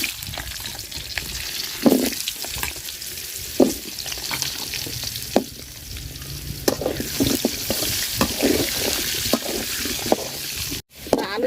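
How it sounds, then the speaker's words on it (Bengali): Potato pieces fry in oil left over from frying rupchanda fish, a constant crackling sizzle broken by louder bursts as they are stirred, with a brief cutoff near the end. "মাছ ভাজার তেলে আমি আলু ভাজা নিব।"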